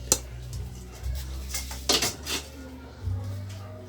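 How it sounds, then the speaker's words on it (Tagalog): A kawali, a wok-style frying pan, is picked up and handled, giving a few sharp metallic clanks and knocks against other cookware over a low background hum. "Kukuha ka ng kawali. Ayan, kawali."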